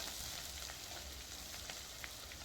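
Ingredients frying with mint in a pan while egg fried rice is being made, a soft, continuous sizzle with faint crackles and stirring, fairly quiet and with no voices.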